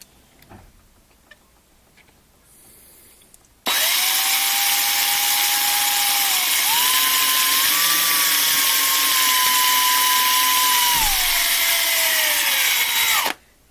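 Cordless DeWalt 36-volt drill boring out rivets on 1/64 NASCAR diecast cars: quiet handling sounds, then a loud sustained whine that shifts pitch a couple of times under load before cutting off.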